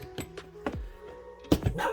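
Two or three sharp dog barks, one early and a louder pair near the end, with quiet pauses between them.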